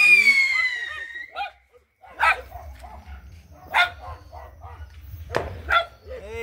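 A small dog barks close up in a few sharp, separate yips during an outdoor São João bonfire celebration, with people talking around it.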